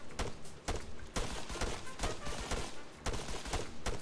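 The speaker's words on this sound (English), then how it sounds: "I've got my pistol out, I'm shooting across the" Gunfire in the military shooter Arma 3 cracks out in sharp, close single shots at an uneven pace, several reports spread over a few seconds with a rumbling tail after each.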